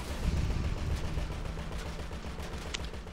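Sustained gunfire from a Grand Theft Auto V Online mission against insurgents: dense, continuous rattling shots and low booms fill the scene loudly without pause, with no voices over them.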